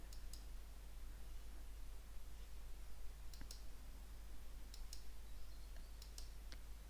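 Mouse clicks during colour correction of video clips in iMovie, a few crisp isolated clicks spaced irregularly over a quiet low hum, close and faint.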